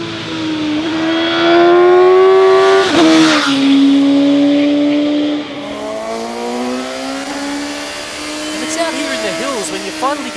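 A Suzuki GSX-S750 motorcycle's 114-horsepower inline-4 engine accelerates hard, its loud rising howl climbing in pitch, briefly dropping at two gear changes, then building again near the microphone.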